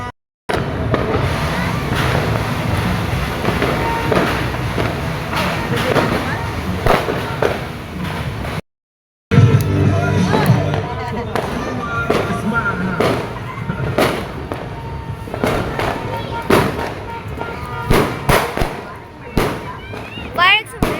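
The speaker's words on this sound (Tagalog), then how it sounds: "Fireworks over there. Fireworks!" New Year's fireworks bursting in a dense, continuous crackle with repeated thuds and pops over a crowd, with people talking and shouting throughout and a brief dropout partway through.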